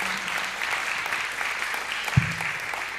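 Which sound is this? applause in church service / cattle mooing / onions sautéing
applause in church service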